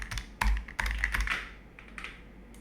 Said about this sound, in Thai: เดี๋ยวผมขออนุญาต พิมพ์